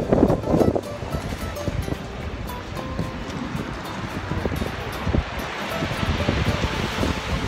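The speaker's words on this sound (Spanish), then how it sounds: "Ya estamos en el mar de Lima." Ocean surf rolls in at the sea in Lima, Peru, a continuous loud wash of waves mixed with heavy wind buffeting the microphone.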